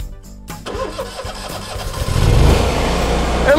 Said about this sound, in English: Let's get this engine rolling here.